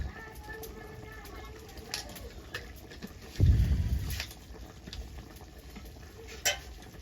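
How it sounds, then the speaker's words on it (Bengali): Spoon stirring egg curry masala in a pan, with a brief louder scraping swirl in the middle, soft sizzling throughout and light clinks, faint and close. "ভালো করে নেড়ে সবটা মিশিয়ে নেব"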